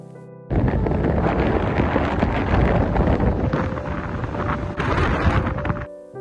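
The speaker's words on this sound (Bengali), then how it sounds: "অসম্ভব হাওয়া দাঁড়াও তোমাদেরকে একবার হাওয়ার আওয়াজটা শোনায়" A strong wind blows at an open outdoor spot, a loud, continuous roar and buffeting that rises abruptly, holds steady for several seconds and then cuts off.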